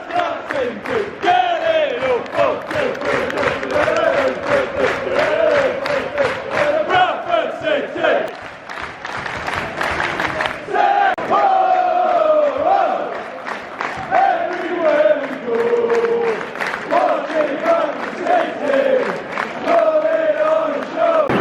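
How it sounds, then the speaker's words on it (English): Reading football fans in a stadium crowd during a promotion match, a dense roar of massed voices with sustained jeers and chanting, loud and continuous throughout with swells and dips. "All the Reading fans just started booing there when Kamari Doyle got subbed off"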